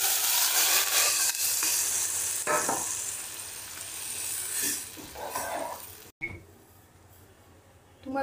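Pressure-cooked dal poured into a hot tempering of oil, turmeric and coriander for Maharashtrian varan, giving a loud, hissing sizzle that gradually fades and cuts off sharply near the end.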